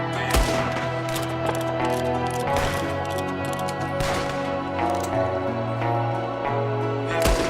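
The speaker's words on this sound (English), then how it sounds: "There's another one shooting from the window" Rapid bursts of gunfire in the Red Dead Redemption 2 video game, a shooter firing from a window, with overlapping loud shots and volleys crackling continuously throughout, no voices.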